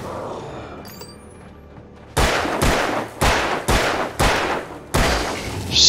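Gunshots in Alan Wake, six loud, close, evenly spaced blasts after a quiet start, each with a short decaying tail, no talk.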